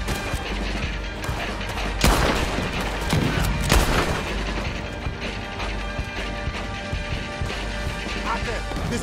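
Bursts of gunfire in Red Dead Redemption 2 crack out in quick clusters near the two- and four-second marks over a busy mechanical rumble, with scattered shots after.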